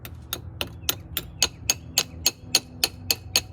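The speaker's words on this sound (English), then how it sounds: "give it a little love tap, make sure it's all the way in there." Light hammer taps seating a brake pad wear sensor on the rear brakes of a 2013 Mercedes E550, about a dozen sharp, evenly spaced clicks close up over a low background hum.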